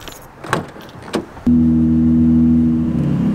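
A car starts moving after a couple of soft thumps, then a steady low engine hum and road rumble fill the cabin, loud and constant with no one speaking.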